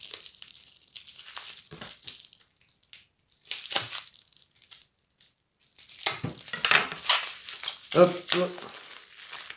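A well-stuffed parcel holding a glass tube is opened, with bursts of crinkling and rustling packing material, scattered handling noises and short gaps, louder toward the end; a voice briefly speaks.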